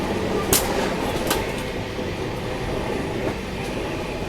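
A passenger train on the Goa Express line climbing a curving stretch of track, a steady loud rumble of wheels on rails heard from inside the coach, with occasional sharp clicks over the joints.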